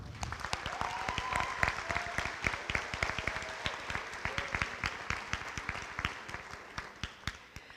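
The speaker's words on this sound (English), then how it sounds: "So if you would join me in an applause for Mrs." Audience applauding at a high school senior awards ceremony, a steady patter of many hands clapping with sharp individual claps standing out, fairly loud and continuing throughout before gradually thinning toward the end.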